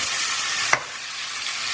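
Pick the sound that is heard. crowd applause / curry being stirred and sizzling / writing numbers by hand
curry being stirred and sizzling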